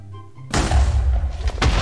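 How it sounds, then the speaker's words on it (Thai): A sudden heavy TNT blast tears through a village in Minecraft, a loud booming roar followed by a second rumbling explosion, close and alone after a quiet moment. "เดี๋ยวเรารีบระเบิดหมู่บ้านดีกว่า"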